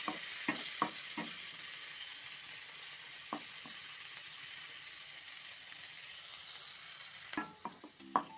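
Tomatoes frying in a pan for tomato rice, a steady sizzle broken by several sharp scraping knocks of a spoon stirring, with a louder cluster of clatters near the end.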